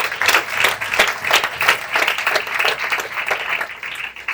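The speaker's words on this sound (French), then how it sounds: "Est-ce qu'on peut applaudir le Seigneur?" A church congregation applauds together, a steady wash of many hands clapping with individual sharp claps standing out, close and fairly loud throughout with no talking.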